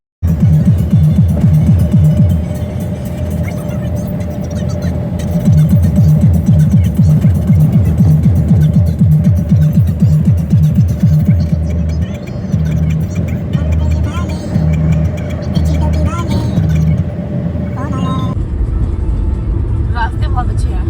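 A car cruises along the road to Varanasi from Ayodhya, giving off a steady, loud engine drone with a pulsing low throb, muffled as if heard from inside the cabin, with voices talking over the hum.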